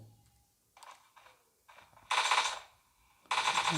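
Gunfire in PUBG Mobile played on a Samsung Galaxy A72 phone: a few light taps, then two loud rattling bursts of rapid shots separated by a short pause.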